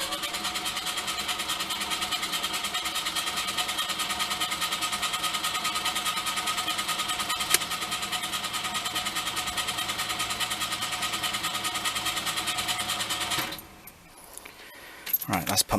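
A Lada 2102 car engine cranks over in a long, rapid, even churning rhythm, then cuts out near the end.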